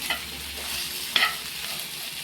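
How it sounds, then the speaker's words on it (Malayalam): Okra stir-fry sizzling in a pan while being stirred, a steady soft frying hiss with a couple of brief scraping stir strokes, close and moderately quiet, no talking. "എന്നിട്ട് വീണ്ടും ഒന്ന് നന്നായി ഇളക്കി കൊടുക്കാം."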